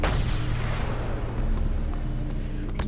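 Dense, continuous gunfire and explosions in the open-world video game Just Cause 2, a loud unbroken barrage of booming shots filling the whole moment.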